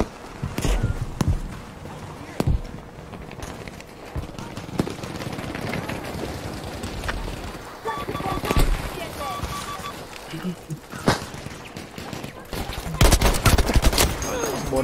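Shotgun gunfire in a first-person shooter video game, heard as repeated loud bursts of shots mixed with other combat noise and footsteps, with voices present throughout the busy, continuous action.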